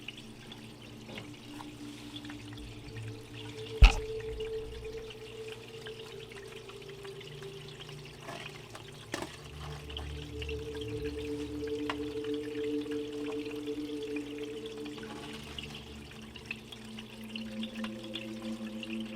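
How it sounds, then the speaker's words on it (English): Water washes sand down a gold sluice in a steady, low trickling and pouring flow that runs the whole time, with a faint sharp knock early on. "we're just going to run it down the sluice and grab our gram of gold"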